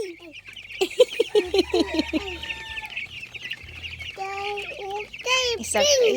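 Young broiler chickens, about 23 days old, cluck and squawk in a series of short calls close by on a farm, with a few louder sharp cries near the end over faint background noise and occasional voices.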